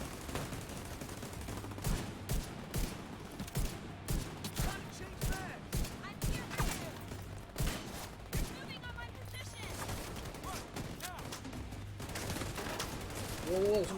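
Video game gunfire, including enemy shotgun fire, crackles in repeated bursts and rapid volleys, with someone talking over the fighting throughout.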